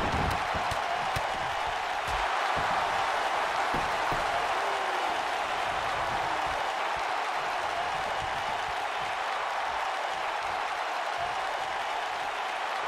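A sold-out arena crowd in the wrestling video game WWE 2K19 roars and applauds during a Captain America versus Killmonger match, a dense, continuous wash of cheering that holds level for the whole stretch.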